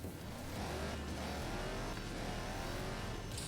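A car accelerating hard in Forza Horizon 4 during a street race scene, its engine note roaring loud and steady at close range, with no voices over it.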